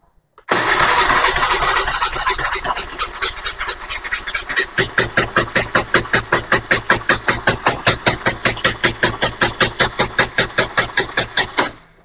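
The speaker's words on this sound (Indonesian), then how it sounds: "kita akan starter ya motornya" A Honda Beat FI motorcycle with a suspected dead ECU cranks on its electric starter, a loud, close, rapid rhythmic churning that runs for about eleven seconds without the engine catching, then stops abruptly.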